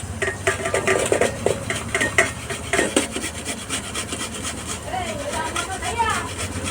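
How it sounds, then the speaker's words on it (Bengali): Raw mango being grated on a kuchani hand grater, a rapid, continuous rasping scrape repeating close up, with clinks from the utensil throughout. "এরকম করে কুচানি দিয়ে আম কুচাচ্ছি"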